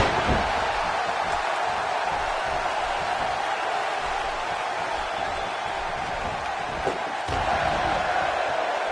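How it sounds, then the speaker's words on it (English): A raucous wrestling arena crowd roars as a steady, dense wall of cheering and noise, with a few faint slam-like thuds, while commentators talk over it. "these legendary B-Town fans are as raucous and ready as any crowd in the world"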